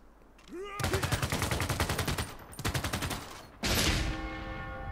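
Rapid machine-gun bursts from a video game, loud and close, rattling in a long stream, pausing briefly, then firing again before a heavy blast-like burst that trails off.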